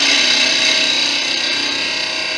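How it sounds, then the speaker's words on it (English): Steady, loud, continuous scraping hiss of a detail gouge cutting into a spinning natural teak blank on a wood lathe, carving a 12-inch Christmas tree, with the tone holding even throughout. "I'm using the detail gouge for doing this"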